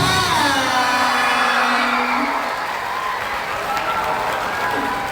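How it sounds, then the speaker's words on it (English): Crowd at an international rhythms festival applauding and cheering, a broad roar of clapping and whoops under a loud voice talking over it, easing slightly toward the end. "we can give a round of applause everybody"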